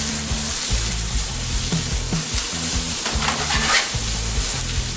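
Eggplant searing in a hot pan, with steady loud sizzling and intermittent stirring or scraping noises, close up and without voices.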